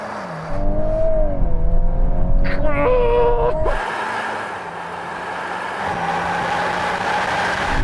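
A BMW M135i launching in a drag race against an Audi S3, AMG A35 and VW Golf R, with a loud engine roar and shifting tones heard close, then easing into a steadier, fainter wind-filled drone.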